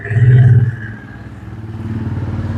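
A freshly rebuilt car engine, just refitted in a garage, runs loud and close, with a stronger surge at first before settling into a steady, pulsing idle.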